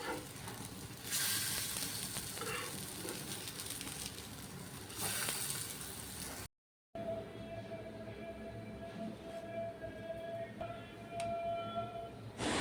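Cutlets fry in a shallow layer of oil in a pan, giving a steady close sizzle and crackle throughout, with a brief gap midway and a faint tonal hum afterward.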